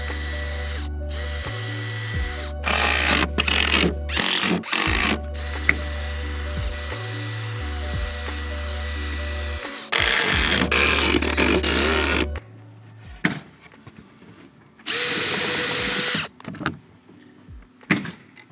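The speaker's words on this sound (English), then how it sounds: "So if you got a router, do it." A handheld router rounds over the edges of wooden sawhorse parts, its motor spinning up into a high whine and bogging as the bit cuts, in repeated passes with pauses and bursts of loud, close cutting noise.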